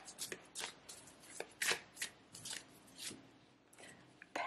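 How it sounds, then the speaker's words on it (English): Tarot cards are handled and drawn from a pre-shuffled deck, a quiet series of crisp flicks, slides and snaps, close and soft with brief pauses between them. "So let's draw a few cards here and see what is going on for my Capricorns."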